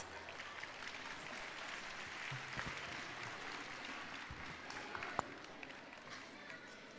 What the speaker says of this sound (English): Let's cheer them with a round of applause.